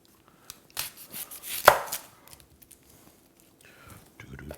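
A small chef knife chops food on a board, a quick cluster of crisp cuts with one sharp loud strike, then quiet with faint taps near the end.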